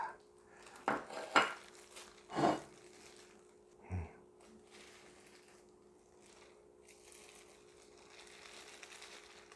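An injeolmi rice cake made with mugwort is cut with the edge of a plate, giving a few dull knocks and scrapes of the plate against a board, faint and close, with quiet pauses between strokes.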